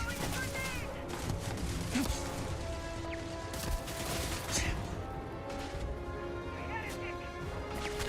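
Turret fire in the space game Starfield: Shattered Space, a steady clattering of shots and impacts running through a dense game soundscape, with music and effects layered underneath.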